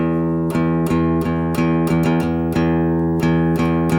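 A guitar rhythm on open strings, mostly downstrokes with one upstroke, plucked in a steady repeating pattern of about ten even strums, clear and close with no talking.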